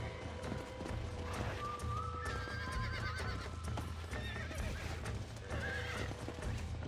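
Horse neighing and whinnying with clip-clopping hooves while a horse is broken in the video game Red Dead Redemption 2, set over a steady low in-game rumble with no clear talk.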